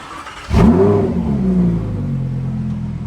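A Lamborghini Huracan STO engine starts with a sharp loud bark, then holds a strong revving roar that settles into a steady, close idle hum.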